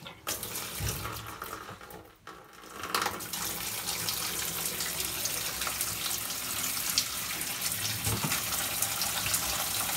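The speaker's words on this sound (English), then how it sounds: "What I'm going to do now is fill this up with water from the shower." Hot water from a shower filling a Costway mini twin-tub washing machine, a steady loud rushing and splashing stream that continues throughout after a brief start.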